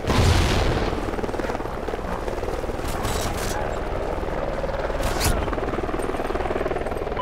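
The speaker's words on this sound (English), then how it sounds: "Helo scout on the way." Scout helicopter arriving during a Call of Duty: Ghosts multiplayer match, a steady loud rotor drone running throughout with game noise and faint voice-like sounds mixed in.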